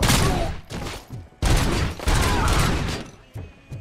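Gunshots in the video game RoboCop: Rogue City fire in repeated loud, heavy bursts with short gaps between them, mixed with mechanical clanks and thuds.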